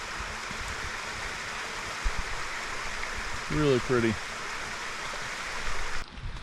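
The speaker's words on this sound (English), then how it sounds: "Beautiful waterfall." A waterfall rushes as a constant, moderate hiss in the background, and a person speaks briefly over it.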